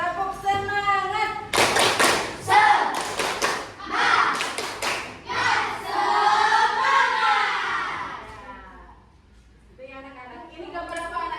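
Classroom of children performs a rhythmic spirit clap, bursts of sharp group handclaps in patterned sets alternating with chanted voices, loud and close.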